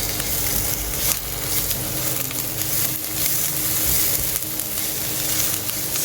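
Ginger, garlic, curry leaves and broken Kashmiri red chillies sauté in hot oil for a coconut egg curry, giving a steady, dense sizzle close by, with faint stirring scrapes throughout.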